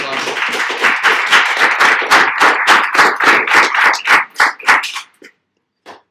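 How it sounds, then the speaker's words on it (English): A small audience at a tech meetup claps loudly and rhythmically, with dense overlapping hand claps that continue for about five seconds before stopping abruptly, followed by one last faint clap. "Round of applause."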